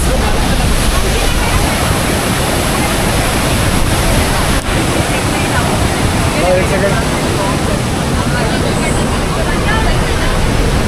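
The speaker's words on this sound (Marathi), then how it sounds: "फार पावसात हा धबधबा फार जास्त खतरनाक आहे" Dudhsagar Waterfall roars in a loud, steady, broadband rush that never lets up, with faint voices lost beneath it.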